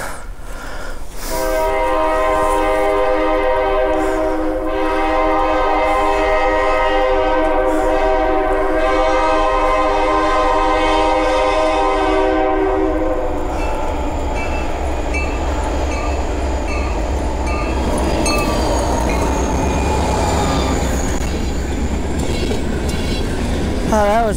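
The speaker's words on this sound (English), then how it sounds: "Oh, but there's a train coming." A train rolls past in deep snow near the busy intersection where Routes 309 and 209 meet, a loud sustained horn chord blaring for several seconds before giving way to the heavy rumble and clatter of cars passing close by.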